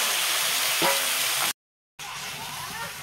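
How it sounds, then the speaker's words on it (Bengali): Potatoes for biryani fry in a pan, making a constant, quiet sizzling hiss that is cut by a brief silence midway and then continues. "বিরিয়ানির আলুটা ভাজা হচ্ছে।"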